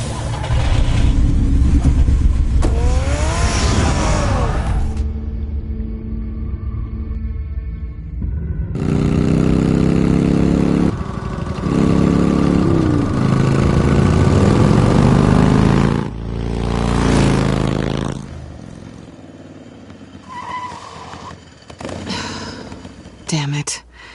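A car engine revving and accelerating in the Telltale Batman game, loud mechanical roars and rising whines that come in bursts, broken by cuts and mixed with voices speaking and other game sounds.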